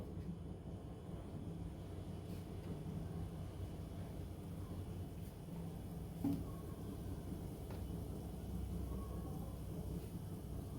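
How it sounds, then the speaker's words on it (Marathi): Gulab jamun made from khoa deep-fry in oil with a low, steady bubbling hiss that continues evenly throughout, fairly faint, with one brief knock partway through. "आपण आता हे उरलेले सर्व गुलाबजाम तळून घेणार आहोत"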